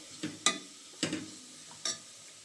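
A spice mixture is stirred in a pan for a Kannada tomato bath with avarekalu beans, giving three or four short, quiet scrapes with a faint sizzle underneath.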